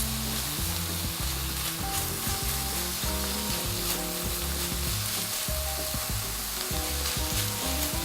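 Garlic and vegetables sizzle and fry steadily in a pan for spaghetti bolognese, a continuous close crackle with light stirring scrapes throughout, no talk.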